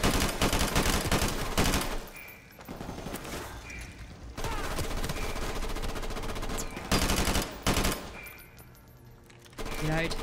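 Sustained machine-gun bursts and rapid rifle fire rattle loudly through a Call of Duty: Modern Warfare Remastered firefight, broken by short pauses between volleys, with voices calling out amid the shooting.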